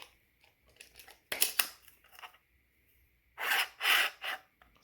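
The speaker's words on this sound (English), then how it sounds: "See, it's still rubbing." 3D printed axial flux BLDC motor rotor with 12 magnets rubbing as it spins, close scraping bursts in short irregular spurts with quiet gaps.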